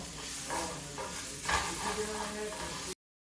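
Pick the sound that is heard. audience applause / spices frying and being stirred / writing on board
spices frying and being stirred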